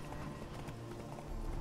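Horse hooves in The Witcher 3: Wild Hunt, heard as a steady clip-clop of a galloping mount over loud, dense in-game ambience, with the hoofbeats continuous and somewhat buried in the mix.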